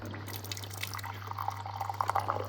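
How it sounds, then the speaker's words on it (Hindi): Hot water pours from a water dispenser into a cup, a faint, bubbly trickle that grows into brighter splashing drips toward the end over a steady low hum. "गरम गरम हॉट वाटर आ गया"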